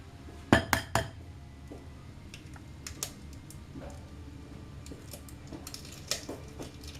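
Egg cracked against a bowl for soft American-style cookie dough, heard as a few sharp clicks and taps near the start, then scattered light clinks and knocks of utensils on dishes, close and fairly quiet.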